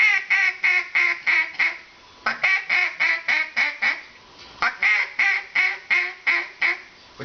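A duck call blown in a steady cadence of quacks, close and loud, in three runs of about six to eight evenly spaced nasal quacks separated by short pauses.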